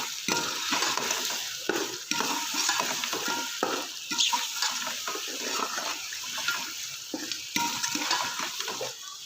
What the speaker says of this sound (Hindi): अच्छे से इसको भून लेंगे मसाले को।